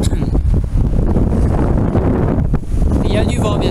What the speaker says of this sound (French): Il y a du vent bien sûr.